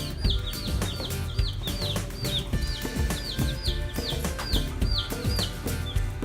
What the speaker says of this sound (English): These are little broiler chicks.